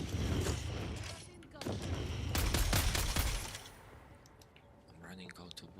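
Gunfire in the video game Dune Awakening: dense bursts of rapid shots crackle loudly through the first few seconds, then thin out to sparse distant pops with faint game ambience.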